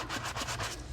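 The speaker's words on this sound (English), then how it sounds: "Why I'm sitting here sanding playing cards" Playing cards being sanded by hand, a soft rhythmic scratchy rubbing in repeated short strokes, close and fairly quiet.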